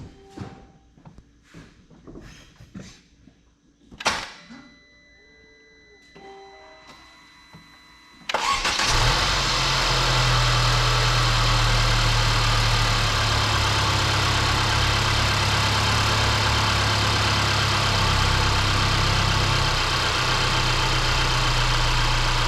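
Mercedes-Benz C300 engine with freshly replaced spark plugs cranks and catches after some quiet handling noises, then settles into a loud, steady idle that holds for the rest of the stretch.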